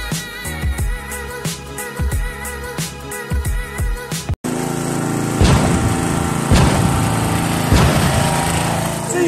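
A Honda GX340 engine fitted to an EZGO Workhorse utility golf cart runs steadily, a loud close rumble with sharp thumps; the first few seconds carry a different rhythmic sound before the engine noise takes over after a brief dropout.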